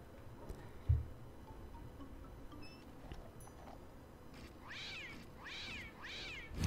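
A cartoon cat in the puzzle video game Contraption Maker gives three quick rising meows in succession near the end, set against quiet background game ambience with a soft thud earlier.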